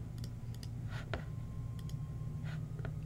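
Mouse clicks on a software update button, several faint, sharp clicks spaced irregularly over a quiet low hum.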